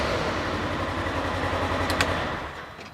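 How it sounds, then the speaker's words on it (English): A Polaris Ranger utility vehicle engine, switched on with a key, runs with a steady, close, low rhythmic chugging that holds even throughout and eases slightly in the final half second. "all you got to do is tap this over and it'll crank as long as it needs to start this engine"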